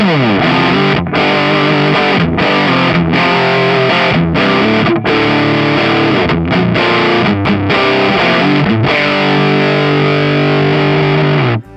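Heavily distorted electric guitar through an Axe-Fx II 4x12 cabinet simulation, chugging loud chords with brief stops between stabs, thick and saturated, played alone without talk.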